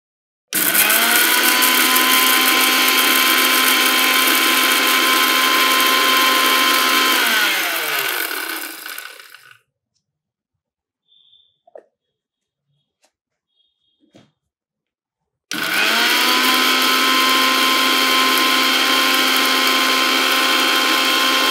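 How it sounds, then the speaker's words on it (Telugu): A kitchen mixer grinder powders fenugreek seeds with three other ingredients for a hair powder. Its loud, steady whir runs for about eight seconds, winds down, pauses in near silence, then starts again just as loudly. "ఈ 4 ఇంగ్రీడియెంట్స్ మనం ఫస్ట్ మిక్సీ పట్టుకోవాలి"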